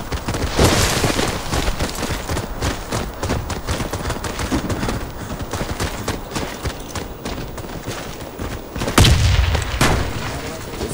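Grenade explosion in Warface during a clan match, one heavy, loud boom near the end amid ongoing gunfire and combat noise, with a deep low rumble after the blast.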